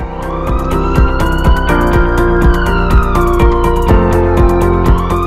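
Emergency vehicle siren from a 24-hour ambulance service at a multispecialty hospital in Pathankot, loud and continuous with rising and falling tones over steady mechanical noise, no voices.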